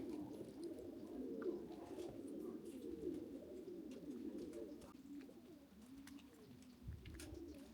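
Racing pigeons coo softly and continuously at their loft as they arrive, a faint, low, rolling murmur with occasional small sounds around it.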